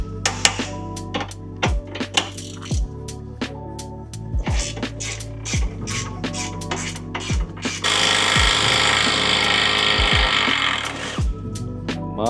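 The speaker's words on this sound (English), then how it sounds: "It's my snap-on ratchet that you use as a hammer." Sharp metallic clanks of a Snap-on ratchet used as a hammer, repeated in an irregular rhythm, with a burst of grinding noise in the middle, during suspension and brake work on a 2006 Acura TSX.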